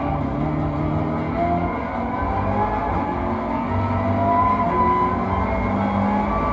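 Race car engine in the Gran Turismo Sport video game as the car spins out, a continuous loud droning engine note with tyre noise, steady throughout with no talking.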